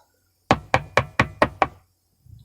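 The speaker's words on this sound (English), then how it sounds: "when you knock on it like that, the little stuff falls down in the hole" A smoking pipe is knocked against a hard surface to clean it out: six sharp, evenly spaced, close knocks in quick succession, then quiet.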